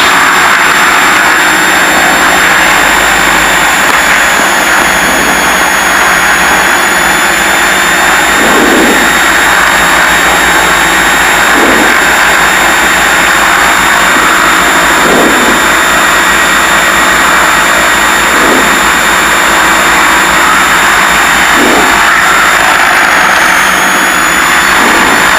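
Piper Seneca twin-engine airplane taxiing, its engines producing a steady loud whine and drone with a constant high tone, heard from inside the cabin for the whole stretch with no talk.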